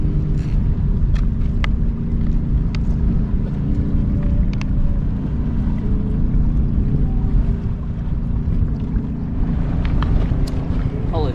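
A motorboat runs past a kayak on Bartlett Lake in Arizona, giving a loud, continuous broadband rumble with gusts of wind buffeting the microphone and a few faint clicks, no clear talk.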